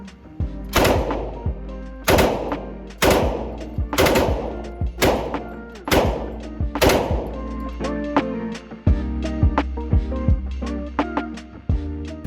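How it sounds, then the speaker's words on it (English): Rifle and handgun shots ring out at a shooting range, a series of loud, close, sharp reports at a steady pace, followed by a run of quieter, quicker pops. "We rent 2 guns, it's a rifle and a handgun, and everyone gets to shoot each"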